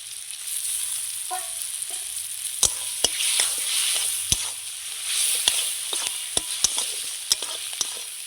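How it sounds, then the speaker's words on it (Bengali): Onions and American fish oil fry together in a pan, sizzling softly at close range while sharp spatula knocks and scrapes land at irregular intervals. "এই দেখুন ভেজে নিচ্ছি"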